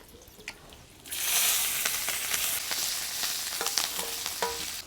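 After a second of quiet, a loud, steady sizzle bursts out as chopped green chillies drop into hot oil with garlic, with crackles and pops running through it.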